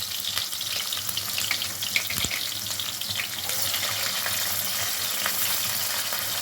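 Chopped onions hit hot oil in a pan for chicken curry and fry with a steady, bright crackling sizzle that holds throughout. It stays close and fairly loud, with a brief clack partway through and no voices.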